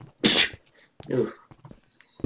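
A person sneezes loudly and close by, one sharp burst followed by a short exclaimed voice and a second breathy sound, with brief talk at the end, during a Minecraft gaming session.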